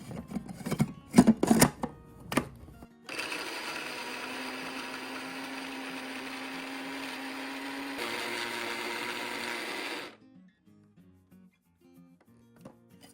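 Walnuts ground in an electric blender for a pomegranate sauce: a steady, loud motor whir with a grinding rasp runs for about seven seconds alone, after some brief clatter and handling knocks at the start.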